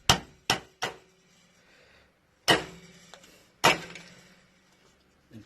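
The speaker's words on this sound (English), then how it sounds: "we're going to give this a tap, and hopefully it should tap the rivet through" A hammer strikes a tapping tool to drive a rivet through during an xyz switch repair on a 2003 Land Rover Discovery 2 Td5. There are five sharp, close metallic taps, three in quick succession and then two more spaced apart, each ringing briefly.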